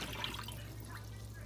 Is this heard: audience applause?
no